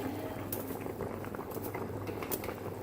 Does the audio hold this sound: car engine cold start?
no